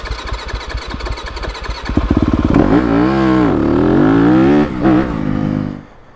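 A 2021 Yamaha YZ250FX dirt bike cranks with rapid chuffing, catches, and roars up loud and close as it pulls away in gear, the engine note rising and falling before cutting off abruptly.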